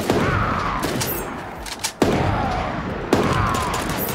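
Bursts of rapid gunfire crackle in a battle royale video game, coming in sharp volleys with short gaps and a few louder single cracks, heard without talk.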